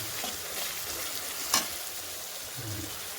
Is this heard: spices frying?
yes